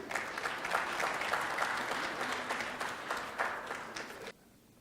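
Audience members at a professional accountants' seminar in Dubai give a sustained round of applause, dense mid-distance clapping that holds steady for about four seconds before cutting off sharply.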